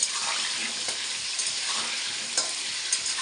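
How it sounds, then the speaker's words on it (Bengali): Salted potato pieces fry in a pan with a steady, close, loud sizzle, broken by a few sharp crackles and stirring scrapes; no voices. "আলুগুলো একটু লাল লাল ভাজা হবে"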